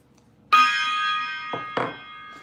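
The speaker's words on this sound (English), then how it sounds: "let me hit my gong for that." A gong struck once at close range, ringing with a bright sustained tone, followed by two duller knocks that briefly renew the fading resonance.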